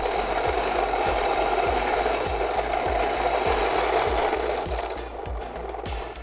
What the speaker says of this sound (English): We're using the Fellows Ode grinder.